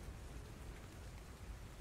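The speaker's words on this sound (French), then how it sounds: "L'orage gronde dehors, la pluie tombe." Rain pouring during a thunderstorm, used as a sound effect for a tabletop role-playing game: a dense, steady wash of rainfall with no distinct thunder clap and no voices.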